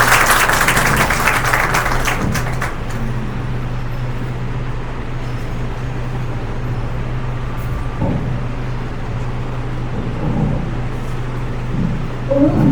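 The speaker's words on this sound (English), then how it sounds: "Do give a good round of applause to the students so that they feel confident" A school audience claps for young students at a show-and-tell event, a dense burst of applause in the first few seconds that fades into a sustained room rumble and murmur.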